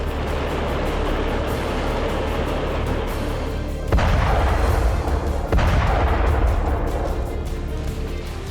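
Artillery shelling in eastern Ukraine's Donetsk region, a continuous loud rumbling roar with two heavy booming impacts partway through, dense and sustained throughout.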